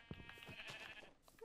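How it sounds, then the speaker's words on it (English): Sheep bleating in the video game Minecraft, a short wavering baa heard at moderate volume over a faint busy background. "sheep."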